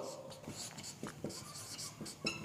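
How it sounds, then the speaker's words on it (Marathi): Chalk or marker strokes on a board during a chemistry lesson on acidic buffers, a series of short scratchy taps and scrapes at an uneven pace, fairly faint in a quiet room. "मी या ठिकाणी लिहितो पुन्हा"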